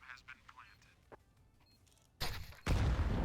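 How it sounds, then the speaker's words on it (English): A grenade detonates in Counter-Strike on the Inferno map, a loud sudden burst followed by a second, heavier roaring blast that fills the end of the clip after quieter game sounds and faint voice-like bits. "Oh, that was a chunky nade right into the lap of Fusion"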